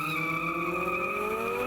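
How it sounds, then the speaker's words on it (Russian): Tires squeal loudly and steadily as drag racing cars launch at the start of a tournament at the Sunzha autodrome in Ingushetia: one continuous, sustained high shriek. "И вот старт с визгом шин"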